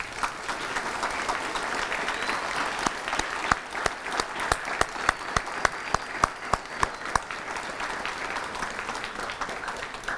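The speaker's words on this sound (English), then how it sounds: "let's give these veterans a great round of applause" An audience at a middle school Veterans Day salute claps for veterans, steady indoor applause from many hands filling the room, with a few sharp, distinct claps standing out near the microphone.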